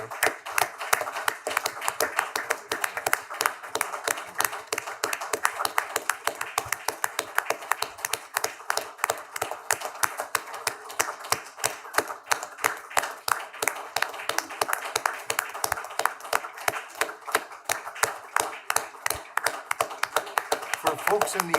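Slow, steady clapping from an audience at a community college board meeting, with dense overlapping hand claps sustained for a long stretch in a reverberant room, murmured voices faintly underneath.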